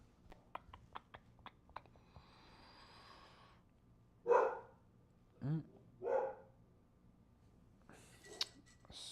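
Dogs bark indoors during a solo board game live stream, a few sharp barks and yips in the middle with a faint whimper, set against quiet clicks, rustles and a voice.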